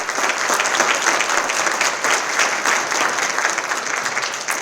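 Steady, dense applause fills an audience hall at a Hall of Fame induction ceremony, holding at an even level for several seconds with no voices rising above it.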